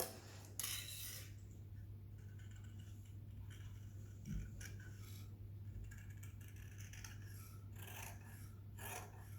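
Scissors cutting a round neck shape out of silk pattu saree fabric, with repeated close rasping snips in uneven bursts over a steady low electrical hum.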